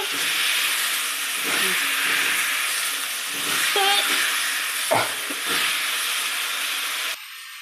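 Potatoes and spices sizzle and hiss steadily in a hot kadai while being stirred, with occasional scraping knocks of the spoon, close and loud, ending abruptly.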